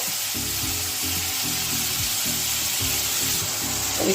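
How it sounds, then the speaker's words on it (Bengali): Spice paste for Bengali doi katla frying in hot oil in a pan, a steady close sizzle with soft stirring and scraping scrapes recurring throughout, no voices. "মশলাটাকে ভালো করে কষিয়ে নেব।"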